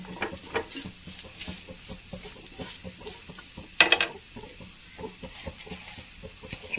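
Spice ingredients for a curry fry in oil with a soft, steady sizzle, broken by the scrape and clatter of stirring and one sharper clank partway through.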